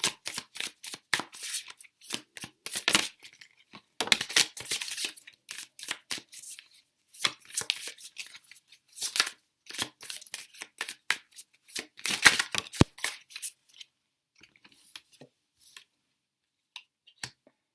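Tarot cards shuffled in quick rustling bursts and riffles, close and fairly loud, with short pauses between bursts and a quieter stretch near the end; no talking.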